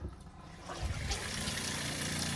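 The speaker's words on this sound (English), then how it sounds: "Water's coming out." Water gushes steadily from a caravan tap fed by a pump, a broad continuous rushing that swells in after a brief quieter start and keeps flowing to the end.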